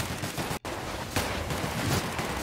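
Steady, dense gunfire in The Outer Worlds, a continuous rattle of shots with one brief gap near the start, then a slightly louder burst that carries on to the end, with no talking.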